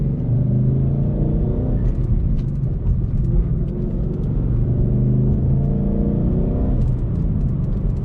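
A manual-transmission sports car engine hums and rumbles steadily while driving on streets, with slight changes in revs as gears shift; no voices.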